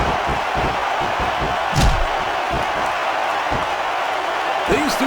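Wrestling arena crowd at a WWE New Year Revolution mixed match reacting with a constant loud roar, a sharp ring slam and scattered whoops rising above the wash of noise.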